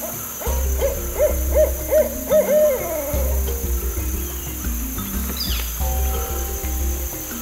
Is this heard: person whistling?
no